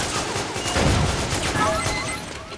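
Rapid gunfire in the online multiplayer game Metal Gear Online, dense overlapping shots and bursts crackling continuously through the clip while players talk over voice chat.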